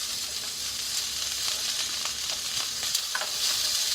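Salmon fries gently in a pan over low heat, giving a steady, close sizzling hiss with scattered soft crackles and pops throughout, no voices present.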